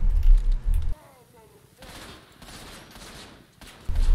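Heavy shotgun blasts in the action video game Trepang2 open and close a short stretch of quieter game ambience, with booming, close-up shots.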